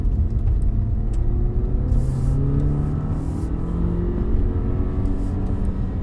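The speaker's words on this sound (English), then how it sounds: "I am in Sport Plus mode. We'll do a launch." A Polestar electric car launches hard from a standstill in Sport Plus mode, giving a steady, loud rolling road rumble with rising whine tones throughout, heard from inside the cabin with no talking.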